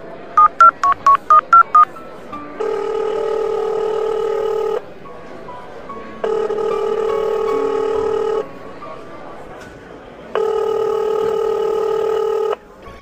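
A telephone call is placed: a quick burst of about eight dialing tones, then three long, loud electronic ringback tones with pauses between them, alone with no talking.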